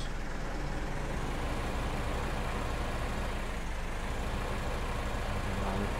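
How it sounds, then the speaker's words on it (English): Tractor engine from the Farming Simulator 15 video game during a canola harvest, a steady low diesel rumble running continuously at moderate loudness with no speech over it. "Tractor."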